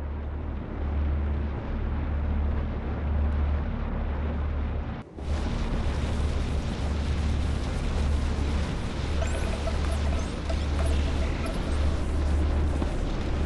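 Starship weapons fire and explosions in a space-combat game, a continuous heavy rumbling barrage with a deep low drone, briefly cutting out once before surging back loud and dense for over ten seconds.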